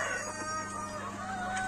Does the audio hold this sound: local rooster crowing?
yes